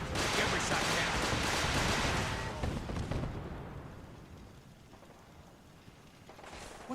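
Missile explosions in the Fallout 4 video game roar as a dense, loud burst of blasts that rumbles and slowly fades into a quieter lingering boom.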